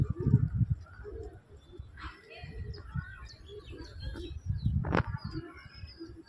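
Madras pigeons cooing in a backyard loft, soft low coos repeating close by with a few chirps and a brief flutter, while someone talks over them.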